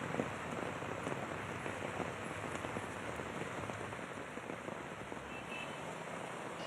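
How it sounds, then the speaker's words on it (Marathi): Heavy rain pours onto the city streets of Nashik as a dense, continuous hiss of drops striking hard surfaces. It stays steady and even throughout, with faint traffic beneath it and no voices. "शहरातील विविध भागामध्ये जोरदार पाऊस कोसळतोय"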